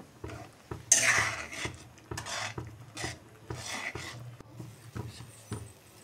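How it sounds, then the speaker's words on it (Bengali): Rice flour mixture being stirred in a pan for a rice sandesh sweet, with repeated scraping and rubbing strokes of a spoon against the metal, close and fairly quiet, in an uneven steady rhythm. "এখন আবার ভালো করে সব মিশিয়ে নেব। সমানে নাড়া দিতে হবে, না হয়তো লেগে যাবে।"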